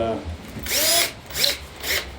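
Three short bursts from a power drill, each a high whine lasting about half a second, close and loud, with brief pauses between.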